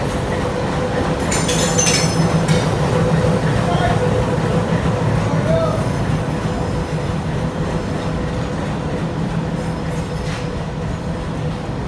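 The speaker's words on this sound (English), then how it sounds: "Today I'll be going on a train ride for the first time" Train ride from Spanish Town to Linstead in Jamaica: a loud continuous rumble of a moving railcar with clinks and rattles, metallic squeals early on, and faint voices beneath.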